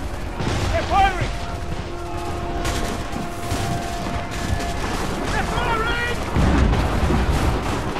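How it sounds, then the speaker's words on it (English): Hostile gunfire in Assassin's Creed 3 keeps up as a dense, continuous crackle of musket volleys and booms, with voices and game sounds layered over it throughout. "They're firing."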